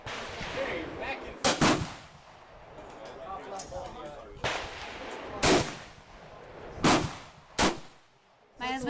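Rifle shots from a Swiss K31 at a shooting range, several loud sharp reports spaced a second or more apart, some close and some more distant, with people talking in between.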